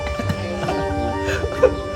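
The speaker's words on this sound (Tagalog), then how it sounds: "Manok pala." A chicken clucks a few times amid faint background noise in a forest near Hulugan Falls, close by, with a brief louder squawk near the end.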